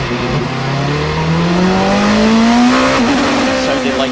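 An Alpine endurance race car at the 8 Hours of Bahrain, with a suspected gearbox or differential problem, revs loudly and close by. The engine pitch climbs steadily, then stumbles with a brief hitch near the end.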